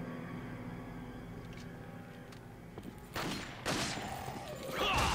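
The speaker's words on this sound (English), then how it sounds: "Somebody's taking pot shots at me." Enemy gunshots in Resident Evil 4, sharp bursts that start quietly and get louder, with several loud cracks near the end over a low game background.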